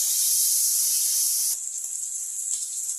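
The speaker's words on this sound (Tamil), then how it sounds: "பச்சை மிளகா 3 பச்சை மிளகா போடுறேன். நல்லா வதங்கட்டும்." Onions sautéing in a pan with ginger garlic paste and green chillies, a loud steady high hiss that drops a little partway through as the pan is stirred, with no talking.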